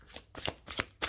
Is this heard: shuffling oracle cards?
yes